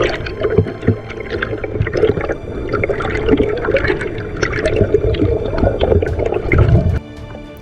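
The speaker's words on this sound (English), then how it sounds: "This little waterfall had changed our day" A small waterfall at an Australian gold-hunting site splashes and gurgles in a close, continuous rush of falling water, heard on its own with no voices.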